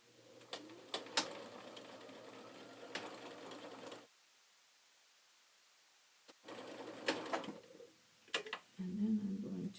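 A sewing machine sews twine into an apron edge, humming in two close runs separated by a pause of near-silence, with a few faint clicks and handling sounds at the end.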